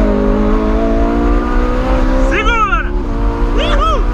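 A Ferrari sports car accelerates hard, its loud engine tone climbing steadily. Excited shouts and whoops break in over the roar.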